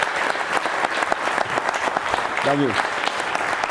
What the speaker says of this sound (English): Can we give Scott a terrific hand of applause?